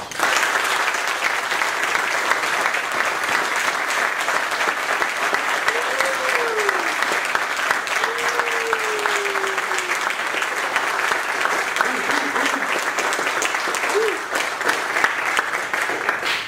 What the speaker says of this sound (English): please join me in giving Keaton a round of applause